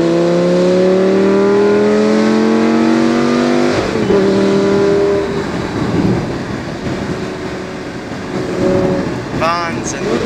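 A Lamborghini Gallardo sports car running on Super Plus fuel revs loudly while driving, its engine note climbing steadily before dropping sharply at a gear change, then settling into rougher road and engine rumble.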